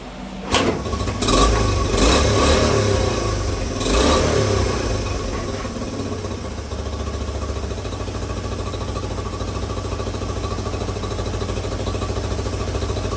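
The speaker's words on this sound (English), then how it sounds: "we'll be ready to start this bike" A 1986 Honda CT110 motorcycle with a freshly rebuilt carburetor starts up and revs briefly, then settles into a steady, close, loud idle that runs on alone.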